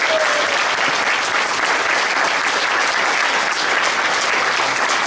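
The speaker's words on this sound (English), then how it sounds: "a huge round of applause for 9 new inductees" A crowd claps hard and continuously for nine new inductees at the Vista Historical Society annual meeting, a thick, even wash of applause with no pauses.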